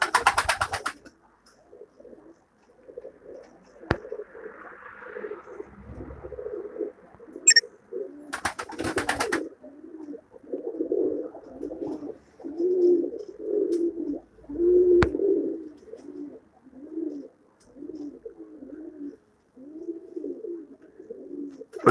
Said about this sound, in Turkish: Kuşlarımız çoktur.